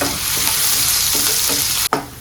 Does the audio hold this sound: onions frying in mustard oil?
yes